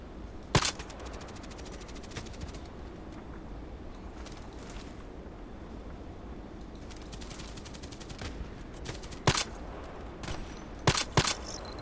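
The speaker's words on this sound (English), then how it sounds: "Last 8 shots." Gunshots in a shooter video game, with a glock among the weapons, scattered sharp cracks over steady background game noise, one early and a close cluster of loud shots near the end, no talk.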